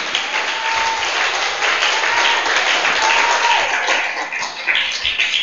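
Congregation applauding in a church service, steady clapping from many hands, moderately loud and continuous throughout.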